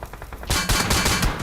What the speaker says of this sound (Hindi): गोली पे गोली चल रही है हर तरफ से।